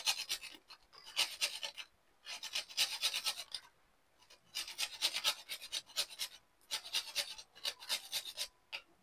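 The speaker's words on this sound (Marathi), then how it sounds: "थोडं जायफळ खिसून टाकायचं आहे" Whole nutmeg grated by hand into a sweet cardamom-spiced filling, a close rhythmic rasping in repeated bursts of strokes with short pauses between, no talking.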